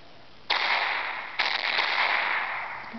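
The Great Wall weapon fires in the iShoot artillery game on iPhone, giving two sharp noisy bursts about a second apart. Each burst is followed by a sustained hissing rumble, and no voice is heard.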